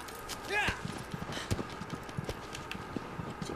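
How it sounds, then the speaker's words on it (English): A horse's hooves clip-clop in a steady series of knocks while people talk over them, with a short whinny-like sound near the start. "It's a horse."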